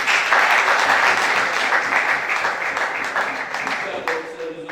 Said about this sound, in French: je voudrais aussi vous remercier pour votre participation et vous demander de vous applaudir vous-même